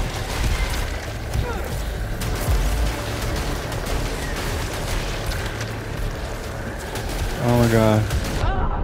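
Dense, rapid shotgun fire and explosive bursts in the video game Returnal, loud and continuous with chaotic combat effects, while a player exclaims over the din.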